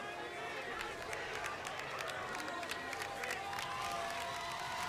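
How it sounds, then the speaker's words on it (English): A high school football crowd cheers and roars steadily in the stands, a dense, distant wash of voices and clapping under an announcer's talk. "this LCA crowd is getting going"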